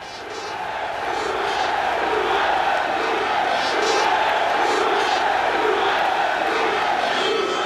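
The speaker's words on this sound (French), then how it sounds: "les énormes clameurs de la foule qui montaient" A huge Juventus football crowd roars at Heysel stadium, a dense, sustained clamour of massed chanting voices that swells in and holds loud with rhythmic rises and falls.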